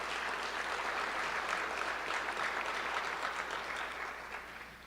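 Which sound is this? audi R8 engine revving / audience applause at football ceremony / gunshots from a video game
audience applause at football ceremony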